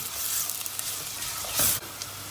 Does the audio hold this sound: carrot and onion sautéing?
yes